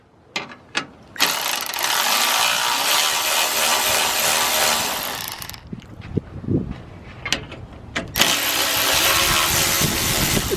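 A Milwaukee power tool takes bolts off an old V6 engine, loud ratcheting whirring in two long sustained runs about four and two seconds long, broken up by clicks and metal clanks, with nobody talking.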